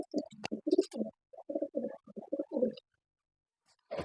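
Pigeons coo in a close, soft series of repeated throaty phrases, with a short pause before another coo begins.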